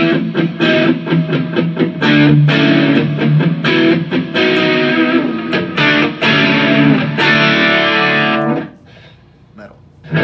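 An electric guitar plays a riff through Eventide distortion with modulation and delay, loud and sustained with chords and notes that ring on, then fade into a brief tail.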